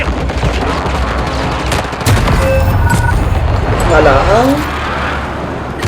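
Gunfire in the Call of Duty video game, dense bursts and rattling shots running throughout at a steady loud level, with a person talking over the shooting.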